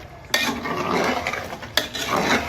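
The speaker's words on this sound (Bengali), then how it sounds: "খুব ভালো করে কষাবো" Mutton curry being stirred and fried down in a pot, with a spoon scraping and clattering against the metal, two sharp knocks standing out over a steady close sizzle.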